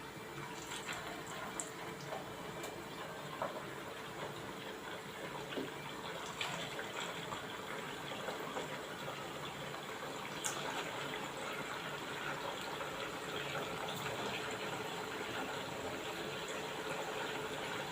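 Sabudana vadas frying in hot oil over medium gas, a continuous dense hissing sizzle with faint crackles, steady and fairly quiet, no voices.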